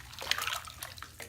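Bath water splashes into a tub with a bath bomb in it, a close, soft run of bursts and splashes with no talking.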